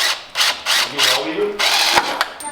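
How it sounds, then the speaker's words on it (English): Several short bursts of a power drill whirring, starting and stopping in quick succession, close by and fairly loud. "we might as well drill these other ones real quick"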